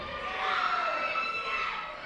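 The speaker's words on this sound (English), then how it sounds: "Crowd here at Sunnyside Elementary School in Stanstead, Quebec." Crowd noise fills a school gym at Sunnyside Elementary School in Stanstead, Quebec, during a local wrestling main event. Children shout and cheer in a steady roar with no pauses, and no one speaks over it.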